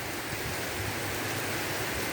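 Heavy rain pours steadily and densely, a continuous close hiss with no gaps, during an autumn downpour that brought flash flooding.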